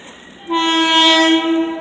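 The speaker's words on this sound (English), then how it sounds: "that train is getting ready to head east" An eastbound Long Island Rail Road Main Line train sounds its horn, a loud multi-tone chord that starts abruptly after a moment of quiet rumble and holds steadily close by before tapering slightly.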